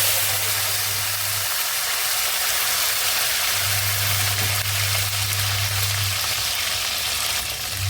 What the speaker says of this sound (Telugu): ఇట్లా అదే రొయ్యలు తీసిన ఆయిల్లో గుడ్లు వేసుకుంటున్నామండి